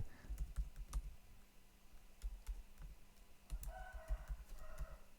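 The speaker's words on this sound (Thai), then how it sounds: "แล้วพิมพ์ หัวข้องานที่ เราได้รับมานะครับ" Computer keyboard typing in irregular bursts of close, crisp key clicks with short pauses between, no voices present.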